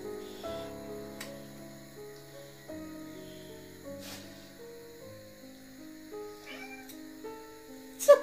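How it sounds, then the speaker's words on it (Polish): A house cat meows repeatedly while looking out a window, a run of clear, close, tonal calls of varying pitch spread across several seconds, ending with a sharper louder cry. "moja mrucia się odzywa, patrzy przez okno, widzi pewnie kotka"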